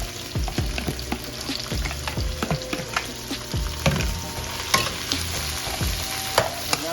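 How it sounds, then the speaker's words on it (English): Onion and saltfish sizzle and crackle in hot grease in a pan, with frequent sharp pops and stirring clatters over a steady frying hiss. "Onion first in the grease. Fry it up."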